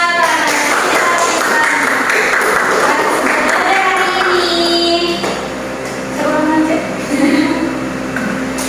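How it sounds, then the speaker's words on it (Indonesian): Classroom of pupils clapping together at the end of a water-cycle lesson, a dense steady patter of many hands close by, with children's voices mixed in throughout. "Ayo, tepuk tangannya dulu untuk kita semua."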